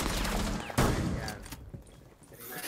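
Gunfire in the video game Rainbow Six: a loud close burst of rapid shots lands early, followed by scattered fainter shots and game noise.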